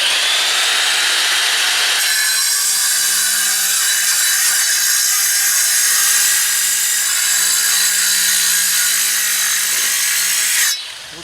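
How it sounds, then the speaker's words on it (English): An angle grinder cuts through a stucco and tile wall in one long, loud, continuous abrasive whine close up. The tone wavers slightly as the blade bites, and the grinder winds down at the end. "we're going to use my grinder, new school, which I kind of like, and we're going to cut this out of here"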